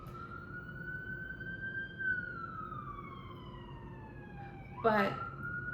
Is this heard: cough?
no